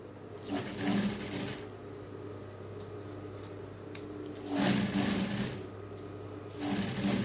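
A sewing machine stitches a cover with an enlarged stitch length, running in three short motor bursts separated by quieter pauses.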